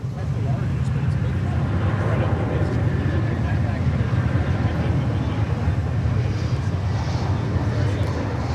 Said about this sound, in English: we've got an American Airlines Flight 1601 Airbus A321 arriving from Cancun